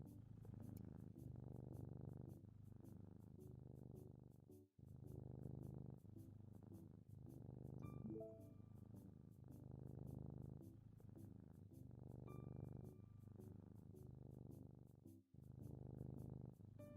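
A cat purrs steadily and close up in the video game Love Curse, a continuous rumbling purr broken into long rhythmic breaths with brief pauses, faint chimes sounding over it.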